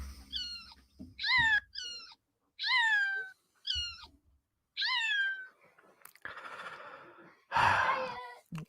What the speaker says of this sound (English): a small child trying to obtain a cat who's decided to hide